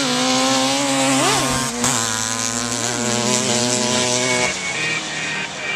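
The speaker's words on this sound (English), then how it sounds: "Speed shifting on that GSXR. You hear whoop, whoop, running that accelerator." A GSXR 750 motorcycle engine fitted to a Timbersled Mountain Horse snow bike with a custom frame revs loud and close, rising and dropping in pitch as it accelerates through quick shifts.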